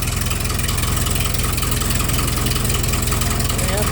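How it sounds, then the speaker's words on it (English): A Farmall 400D tractor engine idles steadily on gasoline, a loud, close, continuous low rumble with a fast even chugging pulse throughout. "Now that it's started, we'll let it sit here and run for a minute or two"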